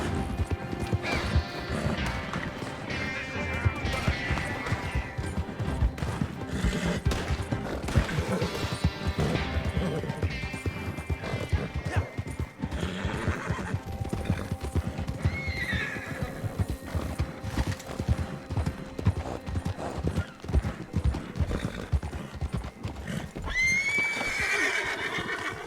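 Horses in the Red Dead Online video game: repeated neighs and whinnies over a steady clip-clop of hooves, with crashes and other game noise, loud and continuous.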